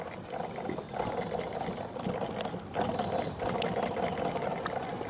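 A small Asha sewing machine runs and stitches with a steady, continuous whirring drone and a fast mechanical patter, fairly close and alone with no talk.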